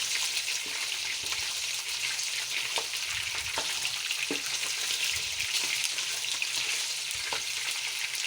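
Chicken frying in hot ghee in a kadai makes a steady, loud, crackling sizzle with a few scattered pops and spatters, and no voices are heard.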